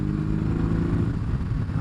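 A 2024 BMW R 18 Roctane motorcycle engine gives a low, steady throbbing rumble with a slight mechanical clatter, close and continuous for about two seconds with no talk.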